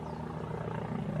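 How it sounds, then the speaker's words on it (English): Military helicopter circling over an area under attack, its rotor giving a continuous throbbing thrum at moderate distance, steady and alone with no voices. "You can see the helicopter moving around."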